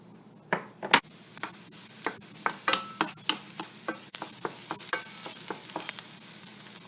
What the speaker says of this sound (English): I'm going to add the onions first. And fry them until they are translucent.